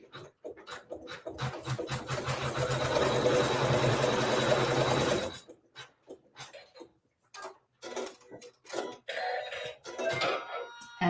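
A sewing machine runs a steady, fast stitching burst through quilt fabric for about five seconds, then stops, followed by scattered clicks, fabric handling and brief bits of talk nearby.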